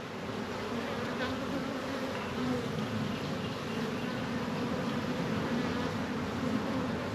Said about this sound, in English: There's a bee coming out right now.